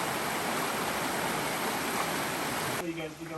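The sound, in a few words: flowing stream water on the Appalachian Trail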